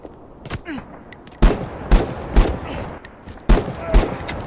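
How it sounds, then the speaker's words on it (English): Gunfire in the video game The Day Before: a handful of sharp, separate shots ring out at irregular intervals, loud and close with short echoing tails. "Maybe some functioning audio on some gunshots from time to time."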